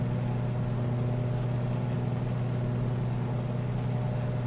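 Steady drone of the Beechcraft Model 18 twin radial engines during a climb in Microsoft Flight Simulator, a constant low hum at cruise power with no talk over it.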